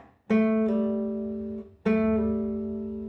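Two plucked guitar notes ring out, each followed by a brief extra twang as a finger lifts off the string, with the tones sustaining and slowly fading.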